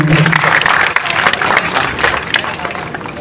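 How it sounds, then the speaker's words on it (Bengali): Applause from a seated audience at a stage drama event for the district commissioner of Narayanganj, dense steady clapping throughout at fairly close range, with crowd murmur mixed in. "আমরা জোরে একটি করতালি চাইছি স্যারের জন্য"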